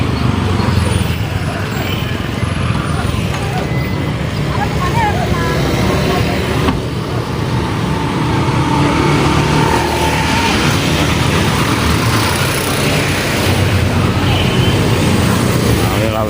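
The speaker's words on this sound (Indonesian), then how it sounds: "Ini mobil molen sudah datang lagi nih ya." A concrete mixer truck arriving through congested road traffic during road concreting work in Gabus, North Bekasi, with a steady rumble of engines and passing vehicles and a person talking over it.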